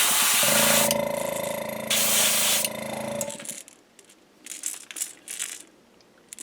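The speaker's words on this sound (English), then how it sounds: "I'm going to try to spend most of my time spraying the clips here." An aerosol can hisses in long, loud bursts as paint is sprayed onto the clips of a fishing lure, followed by quieter rustling and brief scraping sounds.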